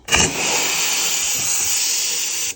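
A handheld steam cleaner blasts hot steam in one continuous loud hiss that starts abruptly, holds steady for about two seconds and then cuts off, close up with no talking.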